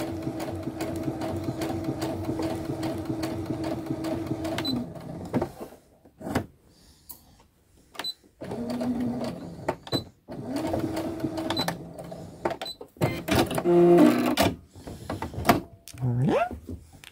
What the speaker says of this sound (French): Et je reviens coudre simplement le reste de ma bande.